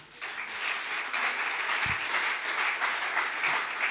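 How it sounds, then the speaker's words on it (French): Inside a church anniversary service, the congregation applauds in a steady, moderately loud wash of clapping that carries on evenly for several seconds, with one low thump partway through. "vous méritez encore nos acclamations"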